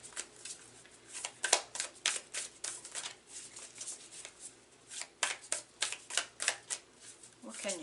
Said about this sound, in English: shuffle them in the way that I normally shuffle them